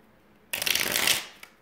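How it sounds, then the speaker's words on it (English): A single quick riffle of tarot cards being shuffled, a crisp fluttering burst lasting under a second that fades out with a light tap at the end. "Let's give it a shuffle."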